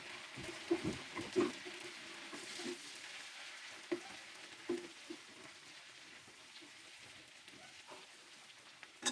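Chicken frying in garlic butter gives off a soft, steady sizzle with scattered small pops and crackles, fairly quiet and with no talking.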